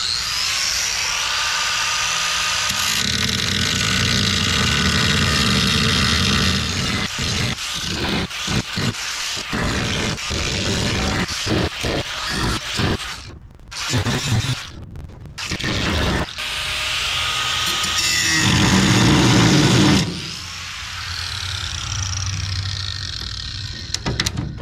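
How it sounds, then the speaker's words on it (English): Angle grinder cutting through a metal trolling motor mount on a jon boat, a loud continuous whine broken by several brief pauses and restarts, with no talking. "I'm gonna get the grinder out and we're gonna get on it."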